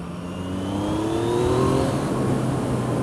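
A Yamaha MT-09 motorcycle in standard mode accelerates hard, its engine note rising steadily in pitch and swelling to a loud, close roar with a whirring edge.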